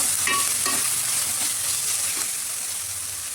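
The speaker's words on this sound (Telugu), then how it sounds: "వెల్లుల్లి పేస్ట్ కూడా మంచిగా వేగిన తర్వాత కొత్తిమీర, పుదీనా వేసుకోవాలండి." Garlic paste, coriander and mint fry together in a pan for mutton curry, with a constant hissing sizzle and a few quick stirring scrapes near the start.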